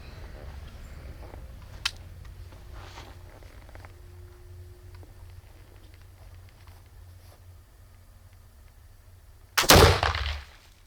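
A Howdah flintlock pistol fires a triple load of bird shot with one sudden, loud blast near the end that rings out briefly after a quiet outdoor wait.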